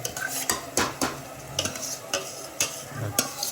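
Khichdi tempering being stirred and fried in a pot, with repeated sharp scraping strokes of a spoon against the metal over a soft sizzle, close and fairly quiet.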